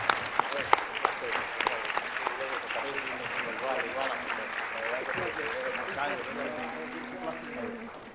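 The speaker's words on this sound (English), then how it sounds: "giving them a warm round of applause" Audience applause at a Dominican community event on Capitol Hill, steady clapping from a crowd held for several seconds, with voices talking over it throughout.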